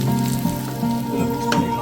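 Oil sizzles steadily in a pan while ingredients fry golden for a Kerala prawn and mango curry, a close, even hiss with faint crackles and a low tonal hum underneath.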